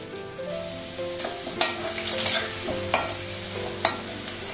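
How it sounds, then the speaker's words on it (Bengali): Potatoes fry in hot oil with garlic and turmeric in a kadai, giving a steady sizzle broken by several louder scraping stirs. No one speaks. "রসুনটা কেটে নেব, আলুটা তাতে ভাজাবো।"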